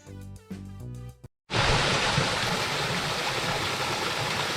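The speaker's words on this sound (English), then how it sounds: "Here is a wonderful waterfall." Waterfall in Rishikesh, a loud, dense, continuous rush of falling water close by. It starts abruptly after a few seconds of musical notes and then stays unbroken.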